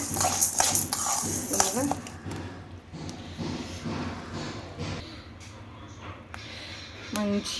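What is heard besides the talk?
dried red chillies frying in a pan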